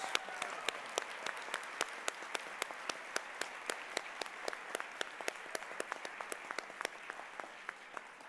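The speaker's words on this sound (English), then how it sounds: "one more round of applause for the 2026 Spokane Scholars" Audience applause at the Spokane Scholars Foundation's 34th annual banquet: a steady run of distinct, fairly sparse hand claps, soft and slightly distant, sustained evenly throughout.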